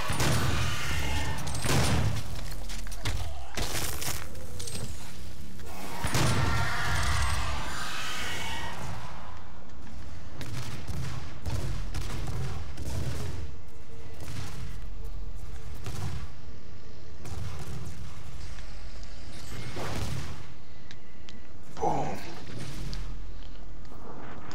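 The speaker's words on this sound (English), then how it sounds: "It's a super shotgun." Gameplay from Doom with loud, booming blasts of the double-barreled super shotgun fired repeatedly in quick succession, mixed with heavy game noise and grunts of combat.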